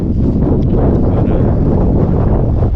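Strong wind buffets the microphone on a hiking trail along the Pacific Crest Trail, producing a loud, constant, rumbling roar that fills the whole stretch with no pauses.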